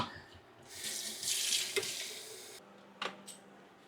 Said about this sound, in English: So I'm going to get some water boiling while this happens.